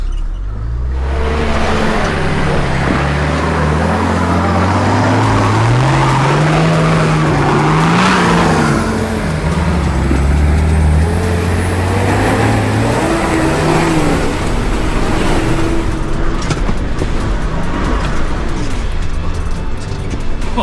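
A 4x4 crawls up a slippery, rain-soaked rock track in second-gear low range with both lockers engaged, the engine droning and revving steadily and loudly through the climb, with bursts of wheel scrabble and strain.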